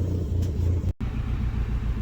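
A Ford Escort RS Turbo with a Cosworth-managed engine, recently replaced after a blowup, idles and runs steadily with a deep rumbling drone and a momentary cut before settling back, close by with no talk.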